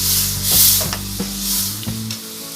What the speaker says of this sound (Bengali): কাঁচা লঙ্কা দিয়ে দেব।